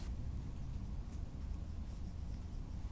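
Faint, continuous scratching of writing on a board during a physics lesson on earthing of conductors, steady and unbroken with no voices.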